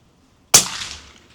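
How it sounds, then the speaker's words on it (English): A rifle fires a single suppressed shot through a TiTrex 300Ti titanium suppressor at an outdoor range on a windy day, a sharp close crack with a short decaying tail. "I'm going to go ahead and take a few shots here"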